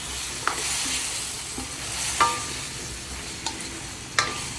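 Vegetables are stirred in a pot while cooking sinigang na bangus sa kamias, giving scattered scraping clanks against a low, steady simmering hiss, with no talk.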